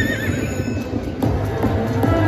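Horse whinnies and neighs ring out from a Wild Wild slot machine game, loud and clear amid bright electronic casino chimes, with no one talking over them.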